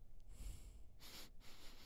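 Someone sniffs the air, two or three short breathy inhalations close to the microphone, quiet and airy, with a low rumble beneath.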